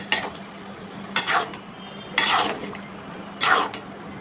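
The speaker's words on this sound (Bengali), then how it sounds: "এইভাবে তলার দিক থেকে আস্তে আস্তে সাবধানে নাড়াচাড়া করে নিতে হবে" Green jackfruit pieces with spices being stirred slowly in a pan, four distinct scraping strokes of a spoon against the pan bottom over a soft, steady low sizzle, close and alone.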